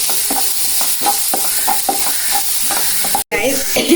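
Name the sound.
spice paste and onion being stirred and fried in a pan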